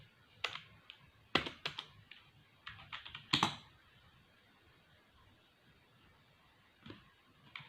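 Typing on a computer keyboard while working in MS Word: irregular bursts of close, crisp key clicks, busiest in the first half, then a long pause and a few final taps.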